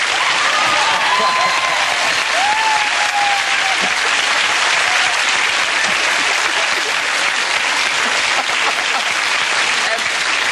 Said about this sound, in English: it was very nice of you to clap that